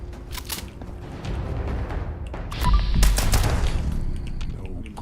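Heavy shotgun blasts and gunfire in a Fallout video game, a dense run of loud, booming shots and impacts with game sounds, building to a thick burst midway and continuing steadily to the end.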